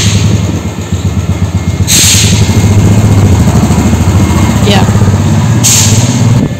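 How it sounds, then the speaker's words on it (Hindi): A motorcycle engine runs loud and close as the rider pulls away, a steady rumbling drone with brief high hissing bursts layered on top throughout. "ये लिटिल जा रहा है ये बाइक में,"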